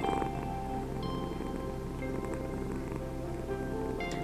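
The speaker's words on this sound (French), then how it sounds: "Le ronronnement est toujours là." A cat purrs in a garden setting, a steady, close, low rumbling drone that runs unbroken, with faint background rustle and no talk.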